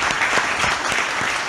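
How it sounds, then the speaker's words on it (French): Audience at a business club round-table event applauds its four speakers: dense, steady clapping from a full room, sustained and fairly loud throughout with no voices over it. "je crois qu'on peut applaudir nos 4 intervenants"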